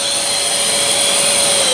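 Festool CT 26 dust extractor running steadily after a remote Bluetooth start, a loud, close, continuous vacuum whine with a high tonal hum and no pauses.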